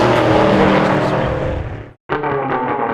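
A drag racing car at a strip in Michigan does a burnout to heat its tires, the engine roaring loud and close before cutting out for a split second, then revving again.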